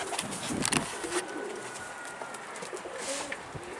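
Pigeons coo softly in a low, repeated rhythm, with faint rustling and light background noise.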